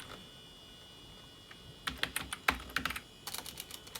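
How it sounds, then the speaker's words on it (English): Keys clacking on an iMac G3 keyboard: after a quiet stretch of faint hum, a burst of close, crisp keystrokes in an irregular rhythm, pausing briefly before another quick run of taps. "Let's see what happens if I type something into Google."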